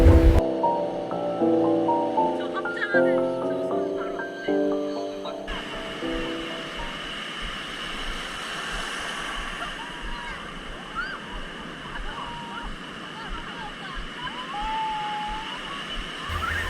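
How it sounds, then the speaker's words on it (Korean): Swell waves crash against coastal rocks at Cheonggan beach in Korea before Typhoon Khanun arrives. A steady, roaring surf wash follows a few seconds of music at the start. "바위와 파도가 어우러진 생동감 넘치는"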